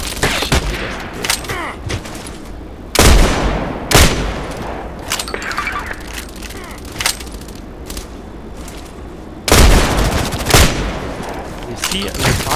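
Rapid gunfire from the online shooter Contract Wars, with bursts of sharp shots and loud close volleys around three, four and nine and a half seconds, over fainter distant shooting.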